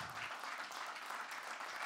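An audience applauds at a stage show, a dense, steady patter of many hands clapping throughout, close and fairly loud.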